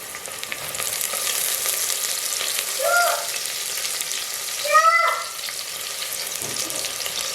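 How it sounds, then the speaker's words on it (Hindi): Onions fry in a pan for beef pulao, giving a continuous, close sizzle with a couple of brief scraping stirs partway through. "प्याज अच्छे से आप लोगों ने इसमें फ्राई कर लेनी है।"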